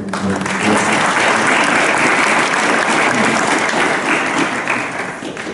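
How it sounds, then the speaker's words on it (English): A large audience at a keynote for a panel discussion on Stokely Carmichael breaks into loud, sustained applause, a thick continuous roar of clapping that swells early and eases slightly near the end. "they deserve a round of applause"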